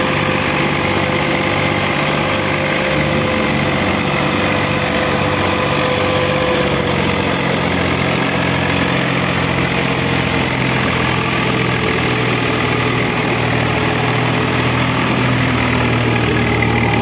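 A Swaraj 855 FE tractor engine runs steadily while powering a thresher, a loud, continuous low mechanical drone with a rhythmic throb and machinery hum throughout, and no voices.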